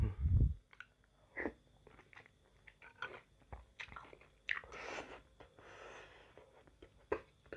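Eating a super-jumbo bakso urat, a beef tendon meatball served with spicy sambal, gives close, irregular chewing and biting with soft wet crunches and squishes, plus occasional breathy snorts between bites.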